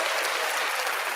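Hand claps blend into a dense, steady burst of applause-like clapping for just over a second, loud and close with no voices over it.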